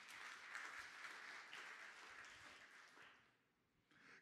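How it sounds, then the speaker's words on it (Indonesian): Sustained, lively applause from a congregation at a church sermon fills the room, steady for several seconds before tapering briefly and picking up again at the end. "Tepuk tangan yang meriah."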